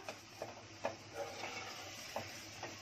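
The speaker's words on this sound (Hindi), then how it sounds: "अब आपको मैं एक चम्मच मार के दिखाती हूँ तो आपको समझ आएगा" A spoon stirring thick lauki (bottle gourd) halwa in a pan, giving soft irregular scraping strokes over a quiet sizzling hiss, close and faint.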